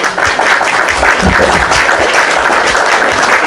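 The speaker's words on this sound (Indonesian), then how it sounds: "Tepuk tangan." Audience applause during an Indonesian religious talk show, a dense, steady wash of clapping filling the room for a few seconds with no break.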